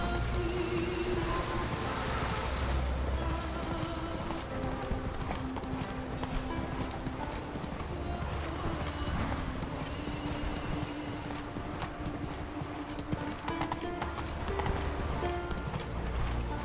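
Roach, a horse in The Witcher 3: Wild Hunt, gallops with steady, rapid hoofbeats that clip-clop loudly and continuously throughout, with occasional snorts.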